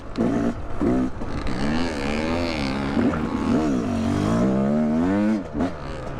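A Yamaha YZ250X two-stroke dirt bike engine revs hard, its pitch rising and falling through downshifts in a continuous close, loud buzzing whine.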